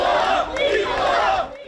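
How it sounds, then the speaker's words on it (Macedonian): A small crowd of citizens protests outside a courthouse after a verdict, with loud, continuous massed shouting and chanting voices close by throughout. "Пред судот беше насобрана и мала толпа на граѓани кои изразија незадоволство од пресудата"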